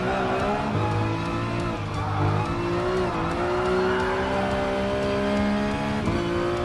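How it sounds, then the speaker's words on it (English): Ferrari F50 racing in Gran Turismo Sport through technical corners at La Festa Cavallino, its engine droning loud and steady with pitch rising and dropping as it accelerates and lifts, plus faint tire squeal. "Now let's push that F50 to do some advanced technical corners"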